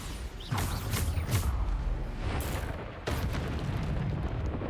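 Bombarda spell blasts in the Hogwarts Legacy game during a boss fight, deep booming explosions with rumbling debris, one heavy burst early and another near the end, loud and dense without speech.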